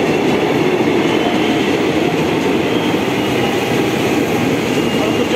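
An old-livery JR 205 series KRL commuter train at Tanjung Barat station gives a loud, continuous close rumble and roar of running rail cars, a steady wash of wheel and track noise with no talk.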